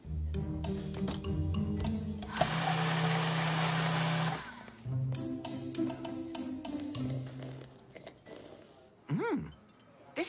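A kitchen blender whirs loudly and steadily for several seconds in a cartoon scene, then drops away as brief speech and other sounds follow.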